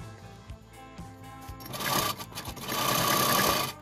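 An Usha sewing machine runs a straight seam along a kitchen apron strip, with a close mechanical whir that starts and stops, then speeds up into steady stitching.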